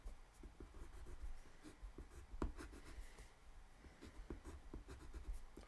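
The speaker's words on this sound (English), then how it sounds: "I'm just going to erase this a little bit" Someone erases a storyboard sketch with a faint, close, continuous scratchy rubbing made of quick strokes and small taps, with no one speaking.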